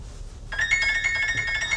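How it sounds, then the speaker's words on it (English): A phone rings in a home setting, a bright repeating electronic tone that starts abruptly and continues steadily at close range, with no talking over it. "There's the phone again."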